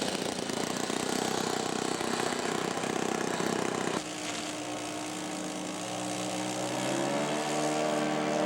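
Scale-model Piper Cub propeller plane in flight, a steady droning engine whine that holds level, then shifts pitch partway through as the aircraft passes, fairly loud and alone without talk.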